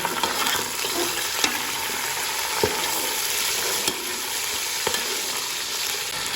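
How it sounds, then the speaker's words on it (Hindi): Steady, close sizzling and crackling of chicken frying in a pan, with a few sharp clinks of stirring scattered throughout; no voices. "चिकन को है जो हम अच्छी तरह से इसमें भूनेंगे"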